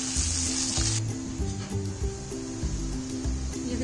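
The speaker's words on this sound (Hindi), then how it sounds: "इसको भी चलाते हुए ब्राउन कर लेते हैं" Finely chopped onion sizzles and fries in hot oil in a pot while being stirred until brown, with a steady frying hiss and intermittent scraping stirs, close and fairly loud throughout.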